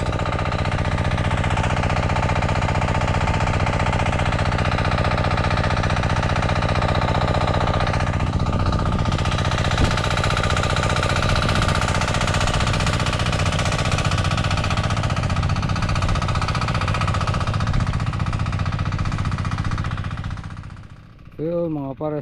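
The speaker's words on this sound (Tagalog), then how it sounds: "Dalawang makina yung umaandar natin" Two engines running on an eggplant farm, a loud continuous mechanical drone with a heavy low rumble and rapid knocking, steady throughout before cutting off near the end, with a voice heard briefly.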